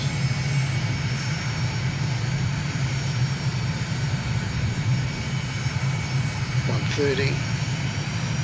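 A propeller aircraft engine in Microsoft Flight Simulator drones in a steady, even low hum throughout, near and constant, while someone talks over it briefly.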